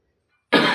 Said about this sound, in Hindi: खांसी बहुत आ रही है यार